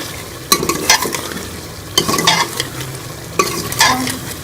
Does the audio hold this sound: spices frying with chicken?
yes